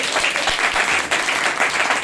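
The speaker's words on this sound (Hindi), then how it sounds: "जोर से एक ताली बजाएंगे।" Church congregation at a Sunday morning service applauding, a continuous loud wash of many hands clapping rather than a single clap, filling the room evenly.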